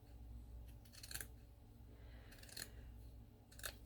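Scissors snip through leftover lace pieces from vintage textile triangles, three quick crisp cuts spaced about a second apart, close but quiet over a faint low hum.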